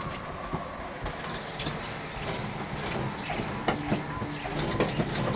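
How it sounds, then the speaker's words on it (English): Interior closet slide-out on a 2006 Hitch Hiker RV retracting, a faint, jerky mechanical whine with squeaks and small clunks, close in a quiet room. "Ed, this is the interior closet slide out"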